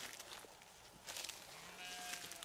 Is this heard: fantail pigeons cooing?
no